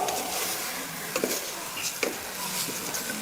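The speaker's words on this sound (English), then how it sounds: "So add that in, give it a stir through." Rice being stirred through in a pan during vegetarian cooking, with soft scraping strokes and a few sharper utensil taps over a gentle background sizzle, close and fairly quiet.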